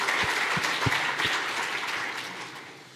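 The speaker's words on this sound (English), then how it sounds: "let's give them all another round of applause" Audience applause after lightning talks at a PostgreSQL conference, a steady crowd clapping with a few low thumps early on, gradually fading over three seconds.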